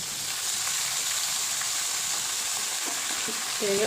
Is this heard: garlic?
yes